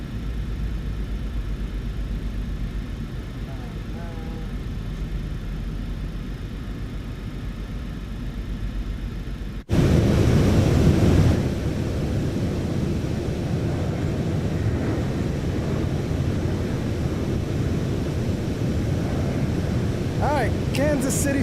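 A PMDG 737 BBJ airliner makes a low flyover above Kansas City Speedway in a flight simulator game, a steady broadband engine roar that swells abruptly louder midway and holds through the pass.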